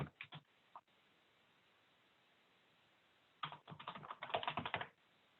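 Someone types a last name and first name on a computer keyboard in an office software demo, with a few quick keystrokes at the start, a quiet pause, then a faster burst of steady close typing.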